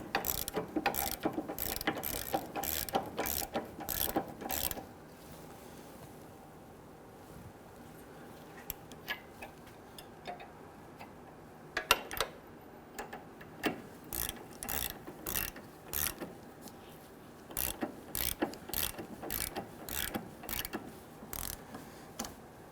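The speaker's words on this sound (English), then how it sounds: "Let's go ahead and tighten this down." Ratchet wrench tightening an 18mm nut on a front sway bar link of a 2008–2013 Infiniti G37, rapid clicking bursts in several runs separated by a quiet pause, close and crisp.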